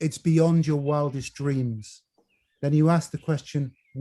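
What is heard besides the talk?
No distinct noise like a dog, phone or traffic.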